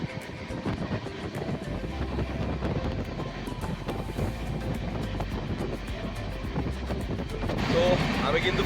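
A moving passenger train travelling from Durgapur toward Shimla, heard from inside a carriage, gives a continuous low rumble and rattle with scattered clicks, growing slightly louder near the end.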